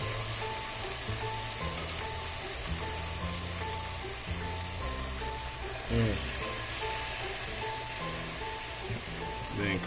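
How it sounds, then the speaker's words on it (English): Lemon-marinated chicken pieces sear on a hot grill with a steady, loud sizzle and crackle, broken by a few clanks and shuffles as the meat is placed, with some background hum throughout. "sear it right there."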